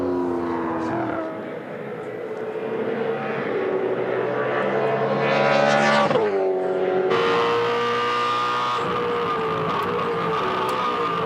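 A V8 Supercar from the 2007 championship Desert 400 race climbs the hill toward turn 8 on a fourth-gear approach. The engine snarl is loud and close, rising in pitch, then drops sharply as the car passes and shifts before revving on again.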